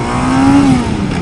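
A Honda Nighthawk S motorcycle accelerating hard in first gear, its engine note rising steadily and loud up close, then easing off within a second or so, with no talking.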